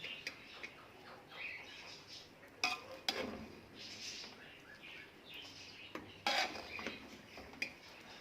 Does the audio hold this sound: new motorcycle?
no